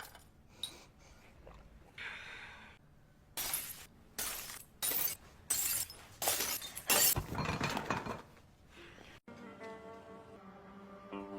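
Glass drink bottles smash over someone's head in a crime film, a run of loud, close shattering crashes in quick succession with scattered clinking fragments between them.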